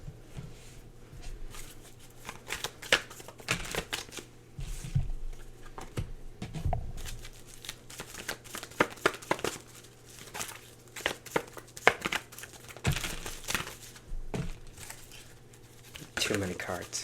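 Oracle cards are shuffled by hand, a soft ongoing patter of card edges slapping and riffling with irregular flicks and taps, quiet and close, while a person talks throughout.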